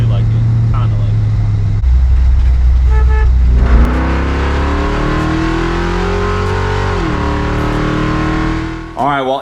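An International Travelall with an automatic transmission drives with a loud, steady engine hum that rises in pitch as it accelerates, with a voice talking over it.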